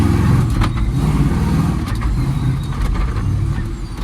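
A 1967 Plymouth Barracuda engine drones steadily with a rough, throaty low rumble, running continuously while the car moves through its gears, close and loud with no talk over it.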